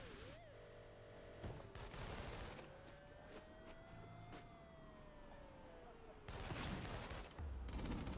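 Gunfire in inFAMOUS Second Son, shots aimed at the player, comes in sharp bursts near the start and louder volleys toward the end, mixed with a wailing police siren in the city.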